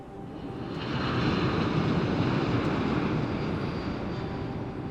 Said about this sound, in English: I don't know why I like the sound of the planes flying.